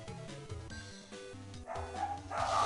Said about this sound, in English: And I have very loud dogs, as I'm sure you all can tell.